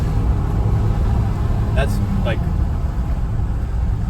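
Inside a manual car coasting along the road, a steady low rumble of tyres and engine fills the cabin while a person speaks briefly.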